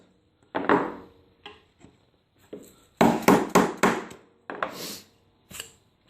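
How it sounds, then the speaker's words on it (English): Hand chisel working wood between dovetail pins on a Krenov-style cabinet, giving a series of sharp close strikes and short paring scrapes in irregular bursts, with clear pauses in between. "we've got to be mindful when we're chiseling down that we kind of have to follow that contour so we don't cut into the pins"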